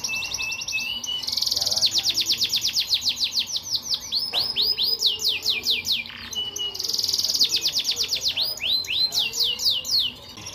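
Canaries at a canary breeder's aviary, singing loudly and close by in fast repeated trills and bright chirping phrases that continue almost without a break, with more song layered behind.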